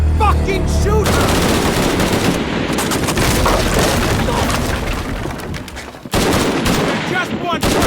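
Sustained, loud gunfire rattles through a Shadow of the Tomb Raider gunfight, dense overlapping bursts and booms with a brief dip near the end before the shooting resumes.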